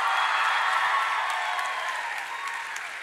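An audience at a conference gathering applauds a couple being welcomed to the stage, producing a dense wash of clapping that starts full and gradually fades over a few seconds.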